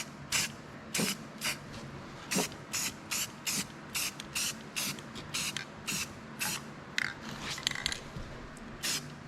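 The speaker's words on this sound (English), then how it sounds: "We'll spray a little paint on this too." Short bursts of spray paint hiss from a can onto a repaired Cub Cadet XT1 mower deck, about a dozen quick sprays in an uneven rhythm, close by with no talking.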